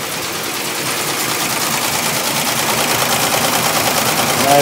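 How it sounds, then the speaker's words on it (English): A ZSK JF08 embroidery machine, after power drive repairs, sews in a rapid continuous chatter of needle strikes that stays loud and steady throughout and grows slightly louder toward the end. "It's obviously sewing beautifully. You can hear it from there."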